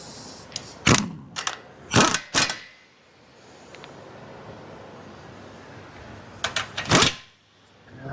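A power tool runs bolts down on forestry machine axles in a workshop, giving a few short, loud mechanical bursts separated by pauses with quieter clanking.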